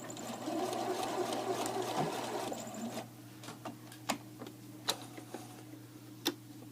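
A sewing machine runs in a short steady whirring burst while backstitching fabric for baby leg warmers, then stops, leaving scattered small clicks and taps.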